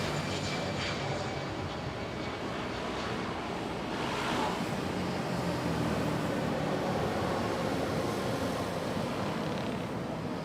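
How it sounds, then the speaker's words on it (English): A passenger plane takes off from Manila airport on a wet, rainy morning, its engines a steady, broad roar that holds loud throughout with no talk. "as we watch this Manila Cotabato flight take off."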